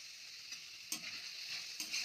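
Spices such as asafoetida and turmeric fry in a pan, a faint steady hiss with a few soft stirring scrapes, quiet and close, without voices.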